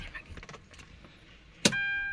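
A car key turns in the ignition of a Hyundai Santa Fe during an aircon switch repair: a short sharp click and jingle, then a steady electronic warning chime holds under quiet cabin noise.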